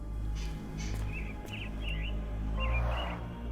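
Caged mynah birds give a few short chirping, whistled calls over a steady low hum of background noise, with clusters of notes near the middle and the end.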